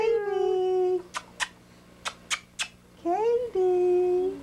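A dog howls in long drawn-out sliding tones, pausing for a string of short sharp yips in the middle before the howl resumes, close and loud.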